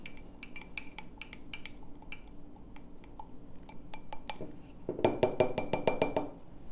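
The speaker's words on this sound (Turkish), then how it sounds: "Bunun üzerine 100 mililitre zeytinyağı kullanacağız. Bir güzel karıştıralım." Bay leaves in olive oil are stirred in a bowl, light metallic clinks and taps ticking irregularly, then a quicker, louder burst of rapid scraping clinks near the end.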